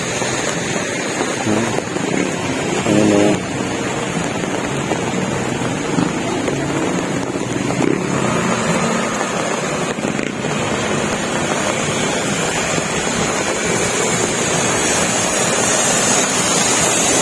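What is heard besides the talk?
heavy rain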